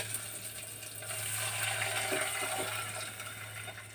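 Water poured from a glass into a pot while cooking semolina, a steady soft splashing and gurgling that runs continuously, fairly quiet and close, with a brief clink near the end.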